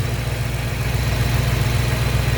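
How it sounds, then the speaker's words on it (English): Steady idle of a 2013 BMW M5's S63 twin-turbo V8, heard close in the engine bay as a continuous low, even rumble with no revving or voices. "your S63 bi-turbo V8. Sounds amazing, just purring right along."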